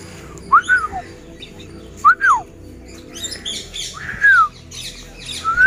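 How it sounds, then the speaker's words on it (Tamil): Several shrill, rising-and-falling green parakeet screeches ring out in short bursts at Vandalur Zoo, with a quieter background of other birds chirping. "நார்மலாக இந்த சத்தம் காலையில் எல்லாருமே கேட்டிருப்பீங்க பச்சைக்கிளி"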